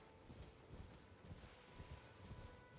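Horse hooves in Elden Ring clop in a steady walking rhythm, soft and muffled under a dense, noisy game ambience.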